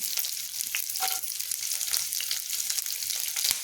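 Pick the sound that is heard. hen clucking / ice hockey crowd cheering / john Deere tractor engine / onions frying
onions frying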